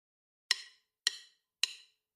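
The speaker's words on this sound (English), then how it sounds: "That's the sound of drumsticks, setting the tempo for change." Four sharp wooden clicks strike at an even, steady pace, each crisp and isolated against silence, like sticks counting off a beat.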